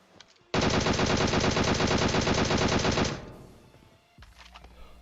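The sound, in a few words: gunfire in a video game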